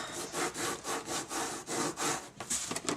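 Steady back-and-forth rubbing and burnishing strokes on a chipboard book cover, a dry, close, rhythmic scraping of about ten even passes, quickening into shorter strokes at the end, with no voices.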